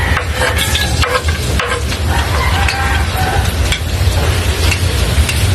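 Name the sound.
garlic frying in pan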